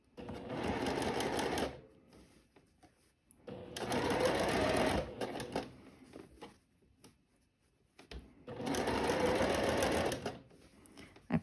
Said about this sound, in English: I will just sew at 1/4 inch with the gathers up again